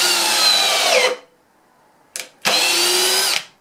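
A ToolPRO 18v hammer drill drives a screw into wood in two loud bursts of whining motor, the first about a second long and the second about a second after a short blip, with silence between them.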